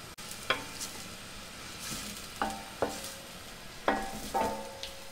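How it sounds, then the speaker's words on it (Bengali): Chopped onions frying in a little oil for an Old Dhaka-style white goat biryani: a steady, moderate sizzle broken by several sharp scrapes and clinks of a utensil stirring the pan, with no voices. "আমাদের যে আস্ত পেঁয়াজ কুচি আছে সেটা দিয়ে দিচ্ছি এবং তেলে আমরা অল্প ভেজে নেব।"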